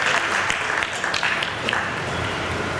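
Guests at a father's retirement celebration in Amritsar, Punjab, clap loudly for his good health, a thick, steady burst of many hands close by with no break.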